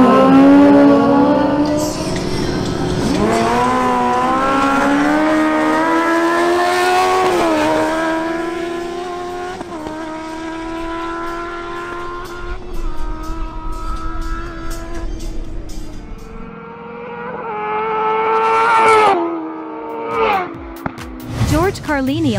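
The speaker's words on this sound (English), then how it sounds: "Next up, George Carlini on his Kawasaki Ninja ZX10R takes another run." Kawasaki Ninja ZX10R motorcycle on a drag-race run, engine screaming loudly through rising gear pulls with shifts, then fading and a final brief rev, while an announcer talks over it.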